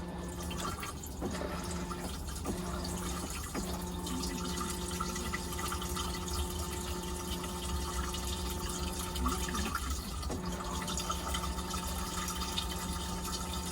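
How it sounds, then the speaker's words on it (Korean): A Dometic toilet in a Renault Master Walden Prestige camper van flushing poorly, with steady running water and trickling drips continuing for several seconds, close up and without talk. "그래서 물을 이렇게 내려보면"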